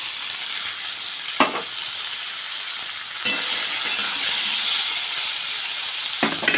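Figs tipped into a pan of fried potatoes, sizzling steadily with a bright hiss and three sharp clanks or scrapes as they go in and get stirred.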